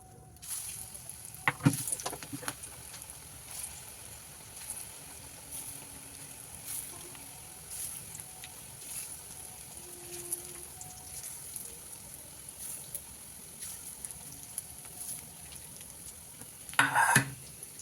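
Onion fritters (peyaji) frying in a pan, a low steady sizzle with a couple of louder clattering stirs near the start and the end.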